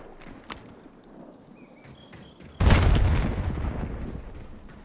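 Killstreak airstrike in Warzone hits with a sudden heavy explosion that rolls into a long, loud rumbling tail, preceded by quieter scattered shots and short electronic beeps.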